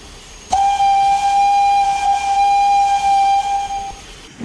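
A steam locomotive whistle gives one long, loud, steady blast of about three and a half seconds, rich in bright overtones, with no talking.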